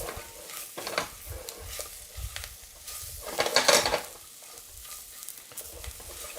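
Garlic sizzles and crackles in a hot pan while being stirred, a steady frying hiss that swells into a louder, sharper burst midway, with faint utensil scraping and no talking.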